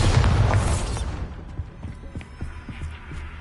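A Bombarda explosion spell in the Hogwarts Legacy video game, a loud booming blast at the start that fades into a scatter of small debris pops and rumbles.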